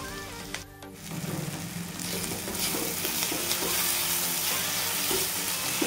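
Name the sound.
frying and stirring paneer bhurji masala in a pan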